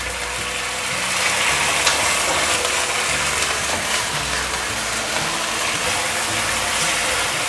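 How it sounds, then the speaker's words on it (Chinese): Tofu stir-fried quickly in a hot pan with oil, turmeric and Himalayan black salt gives off a steady, dense sizzle and hiss that holds evenly throughout, with faint low rumbling beneath. "快速的翻炒。"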